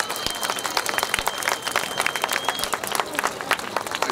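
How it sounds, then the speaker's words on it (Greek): An outdoor crowd at a religious protest rally claps in steady, dense applause lasting the whole stretch, moderately loud with a faint hum behind it. "Ένα χειροκρότημα παρακαλώ."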